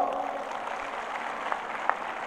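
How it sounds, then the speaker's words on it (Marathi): A crowd at an open-air political rally claps to approve a resolution, a diffuse and fairly faint spread of applause with a few sharper claps standing out near the end. "टाळ्या वाजवून ठराव मंजूर"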